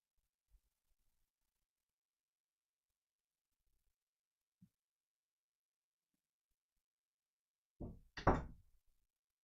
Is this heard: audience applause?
no